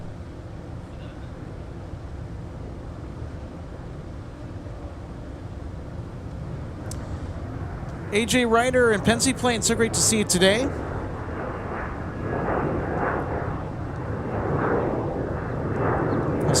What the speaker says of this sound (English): we got some C-130 action here on the north side.